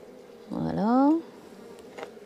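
A single honey bee buzzes close past an open hive during an April inspection, one short, rising drone under a second before fading into quiet background.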